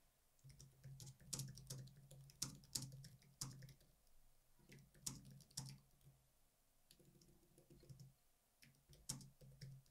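Computer keyboard keys tapped in uneven bursts of quick clicks, close and soft, with brief pauses between words and no voices.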